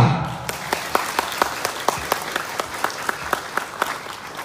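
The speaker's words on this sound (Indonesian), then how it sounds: "Tepuk tangan untuk pembina dan andika-andika pramuka." An audience at a scout ceremony gives rhythmic applause, a run of sharp unison claps at a steady beat, loud and close, with no talk over it.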